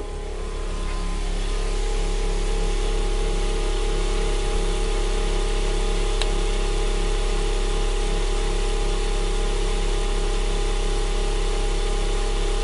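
A single phase generator runs close by with a steady mechanical hum and drone that holds almost unchanged while it drives a load at about 15 volts DC.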